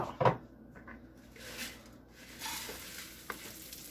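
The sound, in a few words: rice and almond slivers toasting in butter and oil in a pan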